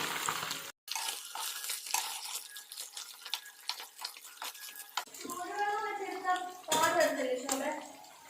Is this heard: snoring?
no